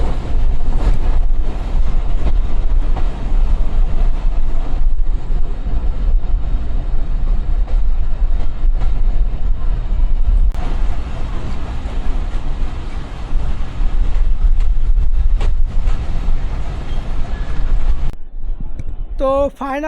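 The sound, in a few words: train arriving at Benapole station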